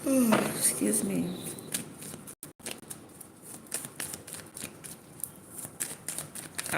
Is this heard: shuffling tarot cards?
yes